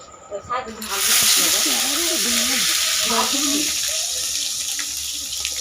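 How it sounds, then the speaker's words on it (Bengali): Food fries on a gas stove with a steady, loud, broad sizzling hiss that starts abruptly and continues throughout, while someone speaks over the first few seconds. "গ্যাসটা জ্বেলে দেবো ভাজাভুজিগুলো গ্যাসেই করবো"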